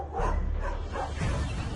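Feral sled dogs that have run loose bark in a rough, overlapping burst of several loud, close barks with yelps between them, over a noisy outdoor background.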